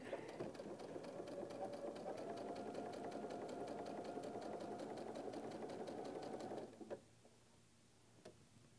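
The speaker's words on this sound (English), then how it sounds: "Now when I stitch, I'm just going to stitch right over those lines that I made" A sewing machine stitches a quilt block seam along marked lines with a steady, rapid mechanical whir and rhythmic ticking for about seven seconds, then stops, leaving a quiet room with a faint click.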